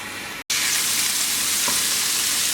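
Chicken thighs frying in a pan, a loud, close, steady sizzle after a brief cut to silence near the start, with a faint clink partway through, no talking.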